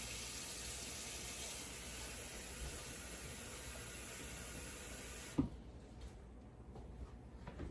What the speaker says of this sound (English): I'm gonna take and cover this with just enough water to cover everything